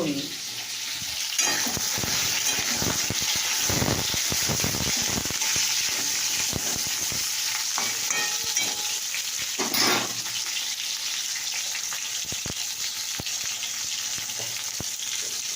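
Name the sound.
frying pointed gourd (potol) in oil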